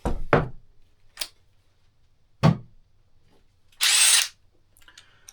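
A DeWalt XR impact driver sinks large lag screws in a few short bursts: several brief knocks and hits, then a louder sustained hammering burst of about half a second near the end, close and alone with no talk.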